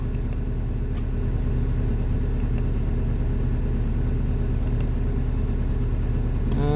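SANY SY215C ACE crawler excavator engine runs at a steady, loud, throbbing idle-to-raised rev with a constant low drone, a few faint clicks, and a rising whine as the revs climb at the very end.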